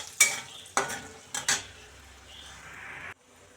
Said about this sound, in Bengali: ওই তেলেতেই দিয়ে দেব গোটা গরম মশলা, তেজপাতা আর শুকনো লঙ্কা